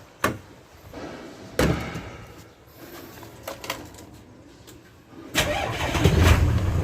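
The Hino H07D diesel engine of a surplus Japanese fire truck cranks and catches after a couple of sharp door or cab thumps, then settles into a loud, rumbling idle close by.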